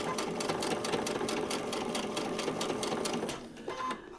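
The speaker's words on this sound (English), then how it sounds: "Now we're going to stitch our next block." A sewing machine stitching a paper-pieced quilt block, a steady fast mechanical whir with rhythmic needle clicks running continuously before slowing and stopping near the end.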